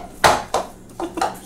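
A spoon stirs a cheese mixture for crock pot lasagna in a bowl, giving four separate clinking scrapes against the bowl at an uneven pace, close and fairly clear.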